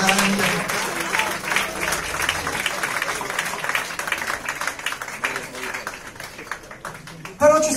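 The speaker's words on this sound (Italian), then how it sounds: "Facciamo un applauso alle bici Pancras" An audience at a ska concert at Milan's Arci Ohibò applauds in a continuous wash of clapping that thins gradually, with a voice speaking over parts of it and a sudden louder burst right at the end.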